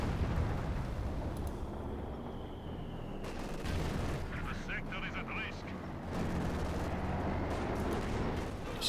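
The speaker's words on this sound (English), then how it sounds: "Got the QG firing off against the MD-42" Weapon fire in the WWII strategy game Company of Heroes 2, aimed at an MD-42 position: overlapping shots and booms sit inside a dense, continuous battlefield roar, with a voice faintly underneath.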